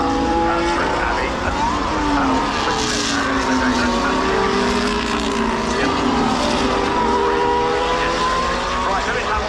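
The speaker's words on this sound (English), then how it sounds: "They're going past at about 152 miles per hour through Abbey." Formula 1 car passing at speed through the Abbey corner at Silverstone during British Grand Prix practice, a loud high-pitched engine sweep with shifting pitch, heard under a commentator's voice.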